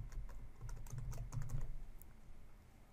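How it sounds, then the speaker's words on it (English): Keystrokes on a computer keyboard as a new password is entered, a quick run of close, crisp taps with no voices. "I'm going to type in a new password."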